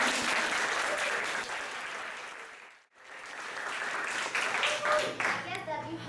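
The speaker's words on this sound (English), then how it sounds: "could you please give Maxime again a big applause?" Audience applause at a leadership workshop, sustained broadband clapping from a room of people that briefly dips to near silence midway, then swells again with scattered voices mixed in.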